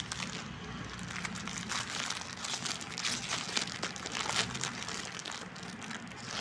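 Plastic wrapping on a packet of coloured glass bangles crinkles and rustles steadily as it is pulled open, a continuous close crackling with no voices.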